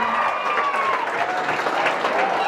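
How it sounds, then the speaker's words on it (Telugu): An audience applauds a student at a government college event, a dense and steady burst of clapping that stays loud and continuous from start to finish. "ఒకసారి గట్టిగా చప్పట్లు కొట్టి అభినందించాలని కోరుకుంటూ"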